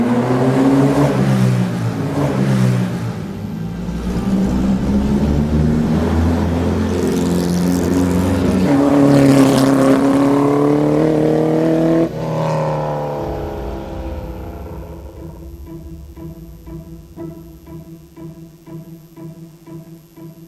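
A 1960 Porsche 718 mid-engine race car with an air-cooled, normally aspirated four-cylinder engine revs and accelerates loudly, its rasping note climbing through gears, then drops to a quieter, pulsing idle-like throb.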